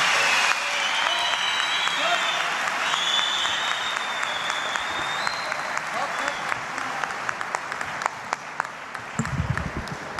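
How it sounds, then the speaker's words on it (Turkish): Sustained, dense applause from a concert audience at a show in Tokat, a loud wash of many hands clapping steadily for about ten seconds with a few sharper individual claps near the end. "Kocaman bir alkış istiyorum."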